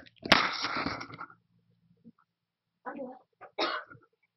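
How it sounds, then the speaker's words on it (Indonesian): A person's harsh cough bursts loudly at the start and fades, followed by a few quieter throat sounds and short breathy noises after a pause. "maaf saya batuk"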